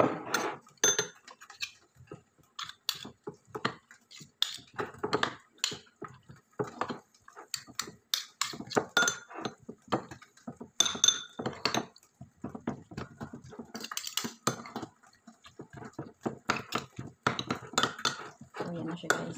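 A utensil clinks and scrapes in a bowl while tuna filling for a sandwich is mixed, in short irregular taps under steady talking.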